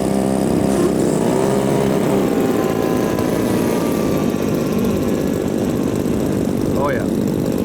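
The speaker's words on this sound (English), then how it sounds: "an engine going sour" A model aircraft engine runs rough at an outdoor air show, a loud continuous droning buzz with wavering pitch, and a voice talks briefly near the end.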